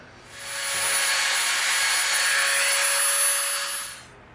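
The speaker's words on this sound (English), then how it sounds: "we're gonna bring in a smaller Dremel bit" A Dremel rotary tool fitted with a small bit works EVA foam, a steady high-pitched whine that spins up, holds for about three seconds and winds down, close and alone.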